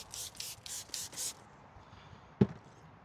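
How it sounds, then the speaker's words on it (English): Five quick hissing spray bursts from a hand spray bottle wet a car window up close while tinting it, followed by quiet and a single knock. "spray the window down"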